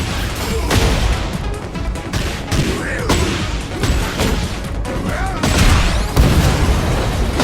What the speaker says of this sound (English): there's another wall explosion